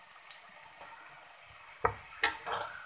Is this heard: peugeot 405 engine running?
no